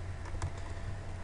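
Fingers type on a PC keyboard, a steady patter of soft clicks with a couple of sharper keystrokes, close and fairly quiet, with no voices.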